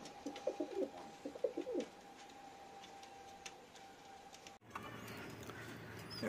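Black Danish pigeons in a breeding loft give soft, low cooing calls repeated in a loose rhythm through the first couple of seconds, fairly close. A steady background hum and faint ticking run underneath, and the room tone shifts near the end.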